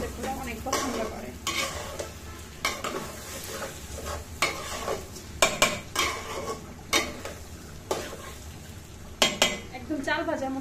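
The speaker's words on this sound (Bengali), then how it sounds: "একদম চাল ভাজার মতো পুরোটা ভাজা ভাজা করে নেব।" Pulao rice sizzles in a pan while a spatula stirs it with repeated sharp scrapes and clinks against the metal, close and fairly loud over the steady frying hiss.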